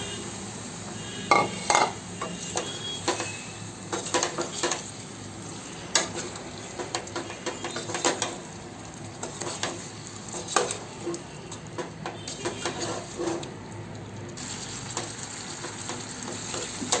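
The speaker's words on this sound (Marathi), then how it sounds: "आपण हे चिकन टाकून व्यवस्थित असं परतून घेऊया" Chicken stir-frying in masala in a hot pan, a continuous sizzle broken by repeated scraping and clanking of a spatula against metal.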